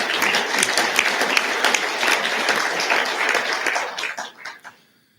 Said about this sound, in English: You can applaud yourselves for that one.